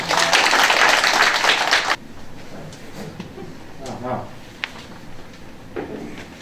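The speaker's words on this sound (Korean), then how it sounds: "네, 큰 박수로 맞아주시기 바랍니다." Residents at a redevelopment briefing give a short burst of applause that stops abruptly, followed by quiet room noise with a few soft knocks and a brief voice.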